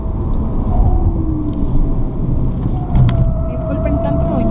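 An Alfa Romeo car brakes hard into a tight corner on a race track, with a loud, steady roar of engine and road noise that swells and settles throughout.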